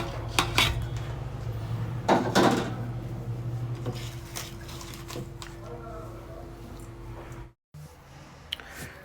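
Chicken for dhaba-style masala being mixed with spice paste in a bowl: steady clattering and scraping of a utensil against a metal dish, with a brief pause near the end.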